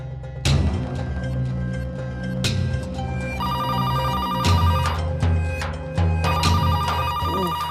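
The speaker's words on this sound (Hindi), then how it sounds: "कौन फोन खड़कावा है, देख जाए के।" A telephone rings in repeated electronic bursts from a drama scene, mixed with background music and no speech.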